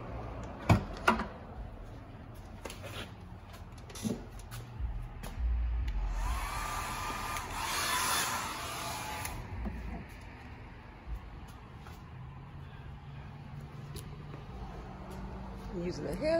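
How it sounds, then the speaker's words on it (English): A hair dryer blows steadily on a car for several seconds, a loud rushing whir that rises in the middle, amid handling clatter and knocks, with people talking around it. "Using the hair dryer and the MVP Hula car."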